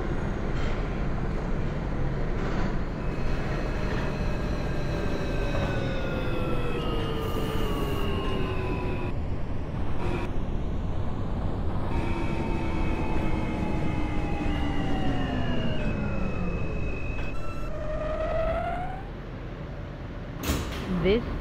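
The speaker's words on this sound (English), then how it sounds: "This is a Smith 9th Street bound G train." Simulated R160 G subway train running from Court Square toward Smith-9 St, with loud steady rumble and rising then falling electric motor whine across several accelerations and slowdowns, ending in a brief burst.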